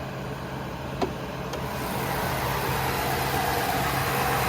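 A 2022 Ford F-350 Limited dually pickup with a 6.7 liter turbocharged V8 diesel idling nearby, a steady low rumble and hum with a faint click early on, holding constant without talk.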